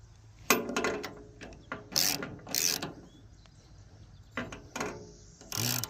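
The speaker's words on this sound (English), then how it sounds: "Give me just a sec, I'll grab a socket." Ratchet socket wrench turning a bolt while assembling a Woodland Mills HM130MAX sawmill, heard as several short bursts of clicking ratchet strokes with pauses between, fairly close and with no talk.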